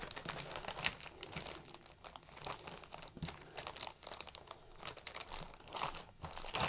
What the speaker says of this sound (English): wrap it with saran wrap, or you can just get a Ziploc bag and put it in there like that. And then just fold it up a couple times.